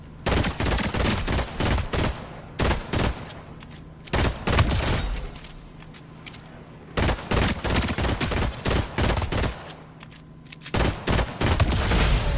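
Gunfire in Fortnite, loud bursts of rapid automatic shots separated by short pauses, repeating over and over, close and dominant with occasional heavier booms.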